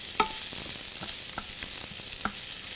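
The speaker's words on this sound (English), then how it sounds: "just get them sautéed a little bit" Green beans sautéing over medium heat in a pan, a soft steady sizzle with a few sharper clicks of stirring scattered through, close and fairly quiet.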